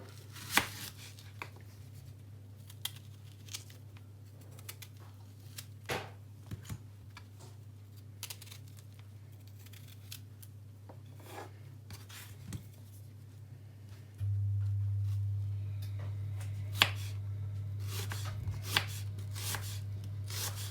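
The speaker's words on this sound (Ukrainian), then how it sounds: "Синю цибулю ріжемо для маринування" A knife chops a red onion into strips on a cutting board, steady irregular crisp taps over a low hum that grows louder partway through.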